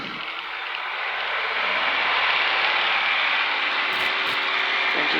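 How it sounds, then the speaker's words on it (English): A Piper Cherokee PA-28-140 engine at takeoff power, heard from inside the cabin as a loud, steady droning roar that builds slightly early on and then holds even throughout, with a couple of faint clicks near the end. "Engine's making power."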